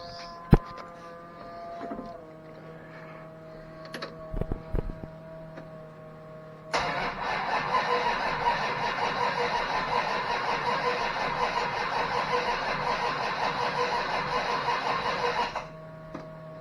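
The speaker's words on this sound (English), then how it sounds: "I guess let's try to start it." A car engine fitted with a new AED HO 750 carburetor cranks and fires up, settling into a loud, steady running roar for about nine seconds before abruptly shutting off, after some quiet clicks and handling noises.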